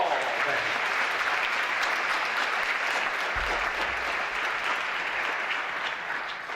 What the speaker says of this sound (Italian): voi naturalmente con un grande applauso vi ringrazierete tutti quanti